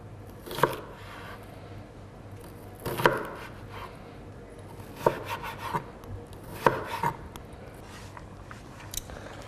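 A knife chops an onion on a cutting board in loose bursts of sharp taps, with soft slicing between, close and fairly quiet, no talking.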